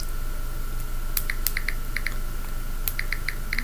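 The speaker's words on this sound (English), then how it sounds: "I'm just going to type it in" Light, quick keystrokes on a keyboard, tapped in short irregular bursts close by over a steady background hum, with no talking.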